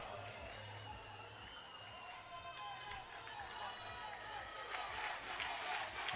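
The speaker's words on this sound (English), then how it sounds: "the Kenya chants are starting to pump this crowd up" A crowd chanting for Kenya at a youth Baseball5 World Cup game, rhythmic voices rising and building in the distance, faint overall with steady low background rumble.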